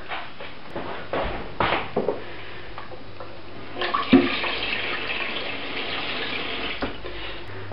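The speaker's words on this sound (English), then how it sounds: "A little water." Water pours into a saucepan holding fish and white wine, a soft irregular splashing and trickling with a few sharper clanks and knocks of the pan, fairly close with no talk.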